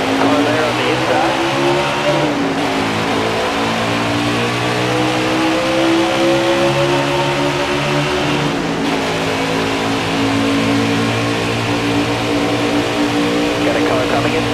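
Race cars accelerate together off a green-flag start, a loud, sustained engine drone whose pitch climbs and dips, with an excited voice calling over the roar.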